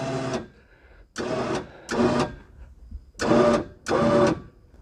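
A Badland ZXR5000 winch on a UTV pulls against a notched log in short, loud motor bursts, five separate whirring pulls with brief pauses between them.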